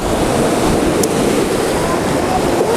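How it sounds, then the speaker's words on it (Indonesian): Strong wind blows steadily outdoors at Haranggaol in cool, humid weather, a loud continuous rushing roar close to the microphone. "Dengan cuaca yang lembab kayak gini, banyak angin, sepoi-sepoi, cuacanya dingin"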